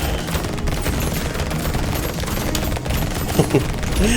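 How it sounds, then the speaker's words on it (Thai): A machine gun firing at a boss in the video game Brotato, a continuous dense rattle of rapid shots with small bursts of in-game effects near the end, no talk. "เอาปืนกลตีบอสนะ"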